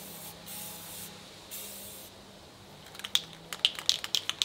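Spray paint hisses from an aerosol can onto a car door in short steady bursts for the first two seconds, followed by fainter rattling and clicking handling noises.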